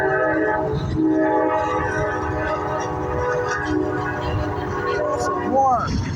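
A freight tank train rolls past up close with continuous rumble and wheel noise, and its horn blasts in several sustained chords. Someone talks near the end.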